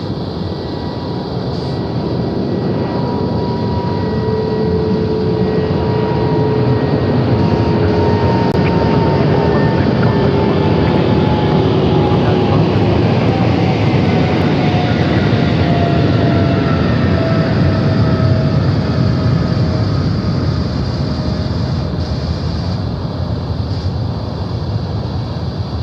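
A freighter aircraft at Sydney Airport roars loud and steady at night, a broad jet rumble with a slowly falling whine that holds for the whole stretch.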